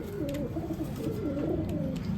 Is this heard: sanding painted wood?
no